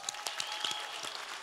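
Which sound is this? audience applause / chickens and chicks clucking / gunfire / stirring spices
audience applause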